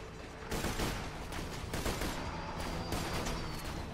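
Dense bursts of rapid gunfire from the video game Borderlands 2 come in a continuous, loud barrage of overlapping shots.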